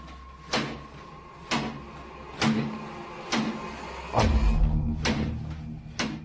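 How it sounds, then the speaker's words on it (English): A kitchen cupboard door in a house bangs shut over and over, about once a second, each slam a sharp wooden knock with a low rumble rising near the end, close and fairly loud. "The culprit in the kitchen cupboard, whose door is banging over and over again"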